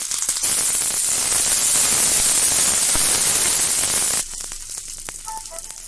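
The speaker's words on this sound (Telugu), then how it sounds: "నెక్స్ట్ అదే ప్యాన్లో మనం తీసుకున్న పచ్చిమిర్చి కూడా వేయించుకుందాం" Green chillies frying in a little oil in a pan while peanut chutney is made, a loud, dense hissing sizzle that drops off abruptly near the end, leaving quieter clinks.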